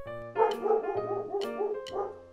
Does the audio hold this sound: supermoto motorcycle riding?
no